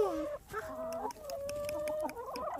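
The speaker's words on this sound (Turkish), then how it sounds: "Anne tavuklar geliyor." Chickens cluck and call close by in a yard, a run of throaty, wavering cries followed by softer clucks, with no talk.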